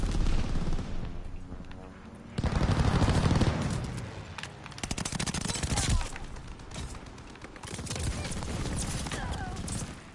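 Gunfire in Call of Duty during a castle siege, with bursts and scattered shots coming from the walls, loud in places and broken up by stretches of quieter background, while players talk over the action.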